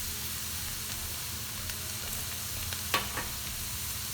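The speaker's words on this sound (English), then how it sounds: "just mix it, let it cook a little bit" A mushroom filling with garlic powder and onion powder sizzles quietly in a pan for stuffed mushrooms. It is a soft, even frying hiss with a brief clink of stirring near the end and no voices.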